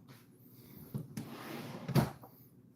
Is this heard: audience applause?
no